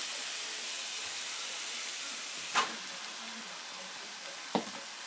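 Chicken pieces hit a pan of hot tomato masala for chicken biryani, setting off a steady frying sizzle and hiss, with two brief louder spits or stirs breaking through the even sizzle.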